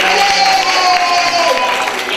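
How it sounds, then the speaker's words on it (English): A group of children claps and cheers in a brief, loud burst at a magic show, with bright shouting voices over steady clapping. "Let's clap and go yay from one."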